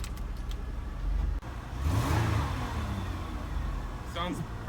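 A used car's engine runs and revs in a salvage auction yard, a steady mechanical rumble close by, with a brief drop and a rise in pitch partway through.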